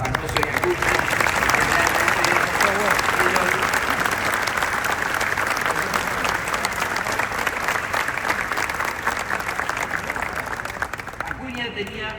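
A crowd at a book launch at La Rural bursts into sustained, dense applause, loud and steady for about twelve seconds before tapering, with some voices under the clapping.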